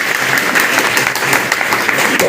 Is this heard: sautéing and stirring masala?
no